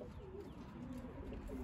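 Young pigeons cooing in a loft, a steady low murmuring coo that runs continuously and moderately close, with no voices.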